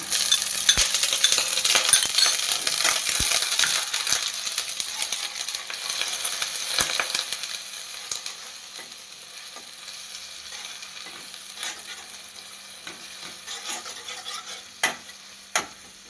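Beaten yogurt is added to a hot pan for a chal kumra (ash gourd) doi posto dish, starting with a loud sizzle that gradually quiets, along with steady stirring and occasional sharp utensil clinks close by.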